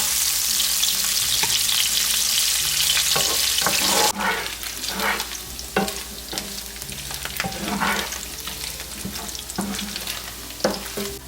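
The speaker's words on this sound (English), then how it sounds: "I want to put my meat into the skillet, and I want to fry this up for about 3 minutes" Meat fries in a hot skillet with a loud, steady sizzle, then breaks into crackling pops and scraping stirs as the pieces are moved around the pan, no voices present.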